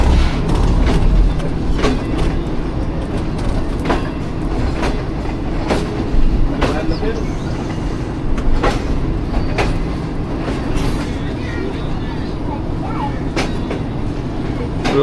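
Pak Business Express passenger train running on rails between Lahore and Karachi, a steady loud rumble with rhythmic clickety-clack of wheels over rail joints and occasional sharp knocks, heard from inside the carriage throughout.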